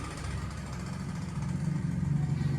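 A steady low engine idle from a Peugeot 407 rumbles throughout, with a slight rise in loudness toward the end, no voices present.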